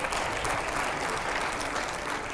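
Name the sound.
studio audience applause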